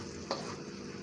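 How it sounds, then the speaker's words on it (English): Shrimp frying in a pan for shrimp scampi, a soft steady sizzle with one brief scrape of a utensil, quiet and close. "now that I've got shrimp frying,"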